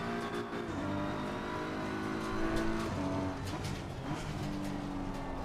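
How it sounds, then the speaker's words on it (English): Race car engine in a racing sim video game, revving and downshifting through gears with a steady close engine drone and rising and falling pitch, alone without talk. "What's wrong with those downshifts"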